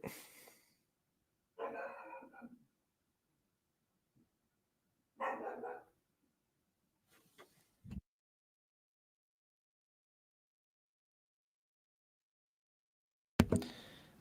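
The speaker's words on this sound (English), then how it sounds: "Sorry, my dog's going nuts." A young puppy barks a few times in short, breathy bursts, faint and indoors, separated by long silences, with a sharp knock near the end.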